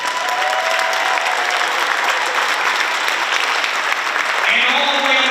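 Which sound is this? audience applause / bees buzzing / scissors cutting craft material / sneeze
audience applause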